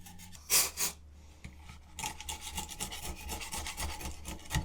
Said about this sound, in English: Just cleaning silicone off.